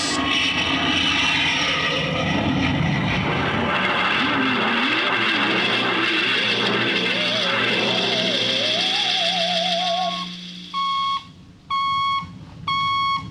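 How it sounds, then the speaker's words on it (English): Aircraft engine sound effect from an old science-fiction radio drama: a loud, rising roar of a plane taking off, then a series of evenly spaced electronic beeps as the roar cuts away. "Clear for takeoff, Charlie?"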